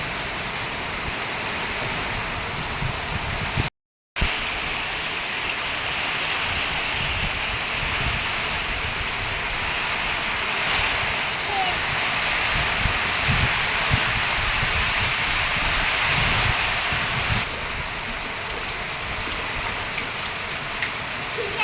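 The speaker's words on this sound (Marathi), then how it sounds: "अचानक खूप मोठा पाऊस आलाय" Heavy rain pours down steadily, a dense rushing hiss of drops on surfaces throughout, with no talking.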